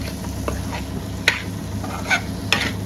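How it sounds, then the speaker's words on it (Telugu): Mutton liver fry with green chilies and onions is stirred in a pan. Soft sizzling runs underneath, and a few sharp scrapes of the spoon against metal come at irregular intervals. "అలాగే పచ్చిమిరపకాయ చీలికలు ఇంకా ఎర్రగడ్డ చీలికలు కూడా వేసేసుకోవాలి మొత్తం అయితే కలిపేసుకోవాలి"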